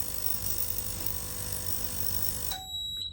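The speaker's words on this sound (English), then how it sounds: "So we'll hear a beep again when it's ready." Steady hum of a Medasyst machine cuts off, followed by a clear electronic beep tone near the end, sounding briefly in the quiet.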